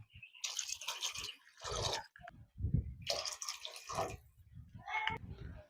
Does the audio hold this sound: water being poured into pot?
yes